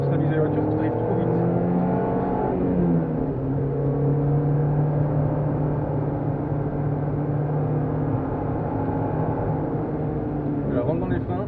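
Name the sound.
Peugeot 206 S16 car braking and accelerating on track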